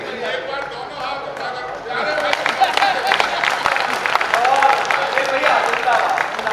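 Audience clapping at a comedy poetry show, a steady dense wash of applause that swells louder partway through, with voices and chatter mixed in throughout.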